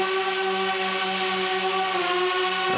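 An indoor DJI drone whines with a steady, loud, tonal motor buzz that holds constant pitch from start to finish, with no voices over it.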